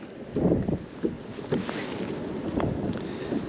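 Gusty wind buffets the microphone on a lake while kayak fishing, a steady rushing noise with soft water sloshes and a few brief knocks close by.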